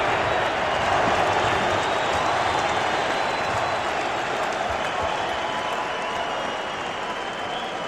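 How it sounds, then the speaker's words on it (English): Boxing arena crowd at the Mike Tyson versus Evander Holyfield fight, a dense, steady roar of cheering and chanting that fills the whole stretch at high volume. "we're seeing the results as the crowd chants Holyfield."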